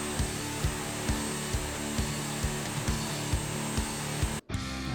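A steady power-tool drone with a regular, thumping rhythm, like a blade working across wood, running loud and continuous before cutting out briefly near the end.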